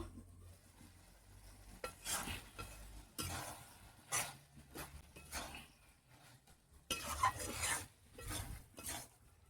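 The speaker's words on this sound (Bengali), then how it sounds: "আমার তেলেই বাঁধাকপিটা ভাজা হয়ে গিয়েছে" Cabbage fries in oil with poultry scraps while a utensil stirs the pan, giving irregular scraping bursts over a faint sizzle, quiet and close with no talking.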